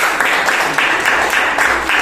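Steady clapping from a group applauding a presenting group fills the whole stretch, dense and even, with a faint voice underneath.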